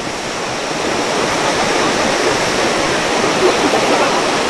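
Changey Waterfall in a North Bengal valley roars in a loud, steady, broadband rush of falling water, close and continuous with no break.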